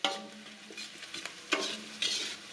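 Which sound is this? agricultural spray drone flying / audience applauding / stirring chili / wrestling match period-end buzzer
stirring chili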